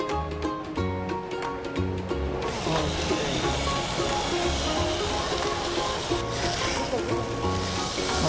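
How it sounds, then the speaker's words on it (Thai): About 150 grams of chicken breast sizzles loudly and steadily in a hot pan, the hiss filling in after a few seconds, with music playing underneath. "พอกระทะร้อนแล้วก็นำไก่ลงกระทะได้เลยค่ะ"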